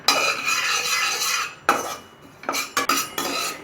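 A spoon scrapes and stirs white sesame seeds roasting in a pan, with a few clinks of metal on the pan and a steady, close scratching rustle that pauses briefly between strokes.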